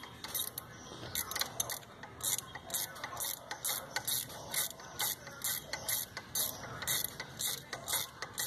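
A ratchet loosens a bolt on a Nissan pickup steering hose, quick rhythmic clicking strokes in steady bursts, close and clear with no talk.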